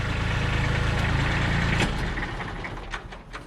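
A Kubota B7500 compact tractor runs with a steady low engine drone as its 3-point hitch lifts an implement; the hydraulic load note shifts partway through and the engine settles to a quieter idle.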